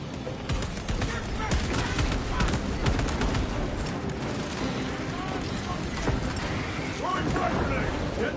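Dense, continuous gunfire in Warhammer 40,000: Space Marine 2, a loud rumbling barrage of overlapping shots with voices shouting over the battle.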